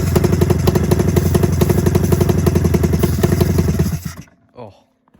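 A 27-year-old snowmobile engine runs rough while firing on only one cylinder, throwing out a loud, close, uneven rhythmic putter of pulses. After about four seconds it sputters and dies, with a brief fading rattle at the end.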